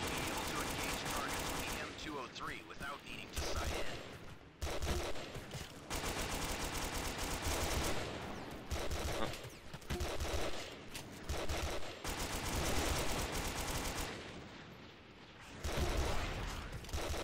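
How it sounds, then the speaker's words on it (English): In a Joint Operations combat game, repeated bursts of rapid gunfire and explosive blasts rattle across a battlefield. Loud volleys come in clusters with brief gaps between them, and voices can be heard faintly underneath. "Okay, they got rockets, it sounds like."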